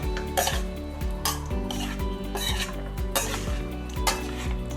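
A spicy salmon herb salad with mango seeds being gently tossed in a bowl, with repeated soft clinks and scrapes of a utensil against the dish in an irregular rhythm, close and moderately loud.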